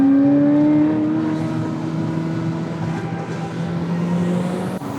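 A Ferrari F355 engine drones steadily from inside the car while cruising at about 60 mph, a smooth, sustained tone that eases slightly after the first second, close and prominent with no talking.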